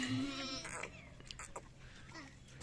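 Young goat kids bleat faintly in brief calls over a noisy, steady background, with a voice speaking at a distance.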